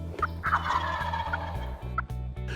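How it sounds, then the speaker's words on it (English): A wild turkey gobbles loudly from about twenty yards away across a fence near a hunter along a tree line, the rattling calls clear against a steady low hum. "the turkey across the fence moved in close to look the situation over"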